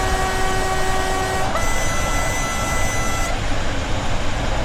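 A train horn sounds in Train Sim World 2 on a high-speed line, sustained multi-tone blasts that change pitch partway through, over a constant loud rumble of the simulated train.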